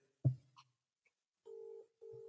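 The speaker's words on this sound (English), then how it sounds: "Let's phone him." A telephone being dialled: a soft knock or click, then two steady electronic tones, each held for about a third of a second, close and quiet with no voices.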